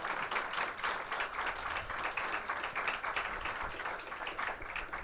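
Crowd applause for a singer at a Bengaluru poetry festival evening, steady full clapping from a large audience holding at an even level throughout.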